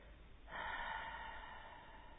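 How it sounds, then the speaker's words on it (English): A slow, deep breath drawn in through the nose during a guided meditation, swelling into a steady, soft airy rush that lingers at close range with no talking over it. "deep breath in through the nose. And then exhale, kind of breathing out through the mouth"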